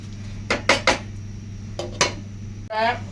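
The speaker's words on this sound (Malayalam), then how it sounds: "അപ്പോൾ നമുക്കിത് മൂടി വയ്ക്കാം." A metal lid is set onto a cooking pot of simmering lentils and prawns, a few sharp clanks and rattles in quick succession followed by a final clatter, close and clear.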